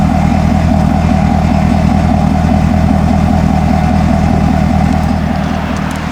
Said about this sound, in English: so that you can get an idea of the sound that this car makes just at idle